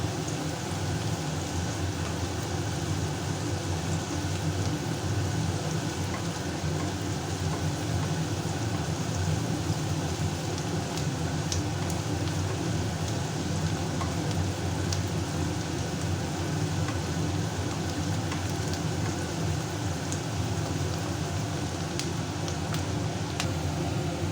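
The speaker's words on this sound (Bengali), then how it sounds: "এবং কন্টিনিউয়াসলি এটা ভাজতে থাকবো, না হলে পেঁয়াজ পুড়ে যাবে।" Sliced onions with a pinch of sugar sizzle and crackle in a hot pan, a dense, unbroken, rain-like hiss that holds evenly loud throughout, with no talking.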